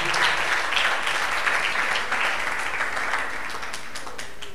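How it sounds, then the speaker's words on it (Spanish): A church congregation applauding, many hands clapping in a loud, continuous wash that gradually fades and thins over several seconds. "Denle fuerte ese aplauso a Cristo"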